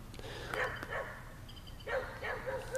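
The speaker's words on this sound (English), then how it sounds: "Oh, that's why he's barking." A dog barks in short bursts, a couple of rough barks spaced apart, fairly close, with a steady low hum in the background.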